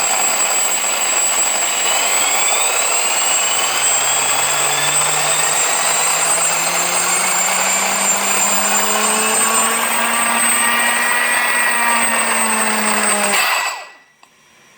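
An Audi R8 engine is revved hard toward full throttle in a long rising whine with climbing tones that build steadily for about thirteen seconds, loud and close, then cut off abruptly.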